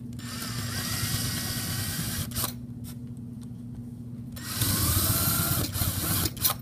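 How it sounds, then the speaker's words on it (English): Power drill pre-drilling holes into the wooden legs of a step stool in a school technology workshop, a steady motor whine that eases briefly, then surges louder again near the end, with faint shop noise and no talking. "so we pre-drill the legs themselves so that the screw goes through it real easy"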